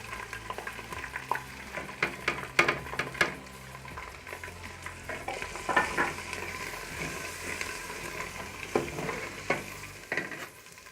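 Chicken keema sizzling in a pan as dry spices go in after garlic-ginger paste, a constant frying hiss with repeated spatula scrapes and clatters, close and fairly loud, no talk.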